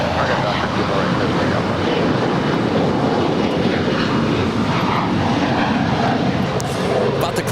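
A United Airlines Boeing 737-900ER inbound from Phoenix at LAX airport, its jet engines making a loud, steady roar that fills the scene throughout.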